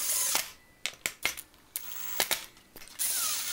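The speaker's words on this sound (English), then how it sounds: "Screw the cross member in nice and tight." Screw being driven into the cross member of a woodworking jig, with a series of sharp, close ratcheting clicks and short mechanical bursts separated by quieter gaps, followed by a sustained whir at the end.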